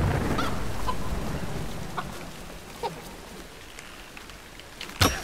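Chicken in the Tomb Raider PC game squawking and clucking, a few short fowl calls over a steady hiss of game ambience, with a sharper cry near the end.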